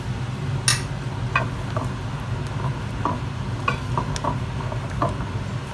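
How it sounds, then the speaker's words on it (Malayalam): A spoon stirs a milk and condensed milk mixture for mango bread pudding, making soft scraping clinks against the bowl in an irregular rhythm, close and moderately quiet. "എന്നിട്ട് നന്നായി ഒന്ന് മിക്സ് ചെയ്തെടുക്കാം"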